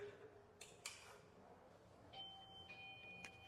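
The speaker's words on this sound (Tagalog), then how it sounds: "Ay, may doorbell pala." A soft two-tone electronic chime rings twice in a quiet room, with faint clicks and low background hum.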